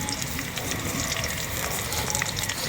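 Herbs and black cumin fry in oil for homemade herbal hair oil, a dense, constant bubbling hiss that stays close and steady for the whole stretch, with no talking.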